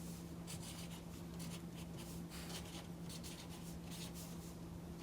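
A marker scratches and squeaks faintly on a classroom board in short repeated strokes, steady and quiet over a constant low hum.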